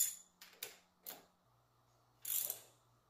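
A ratchet wrench clicks in a few short bursts while tightening a socket on a Yamaha Big Bear 350 ATV under restoration, close and fairly quiet with pauses between strokes.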